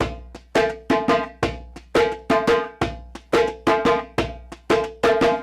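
Hand drums beat out a brisk, steady syncopated Puerto Rican bomba rhythm, sharp slaps and deeper open tones repeating in quick succession, close and clear with no voices.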